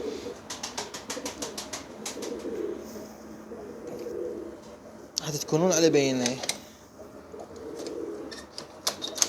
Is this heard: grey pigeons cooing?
yes